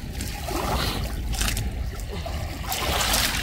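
Water surges and splashes continuously, with rushing swells rising and falling nearby and faint voices mixed in underneath.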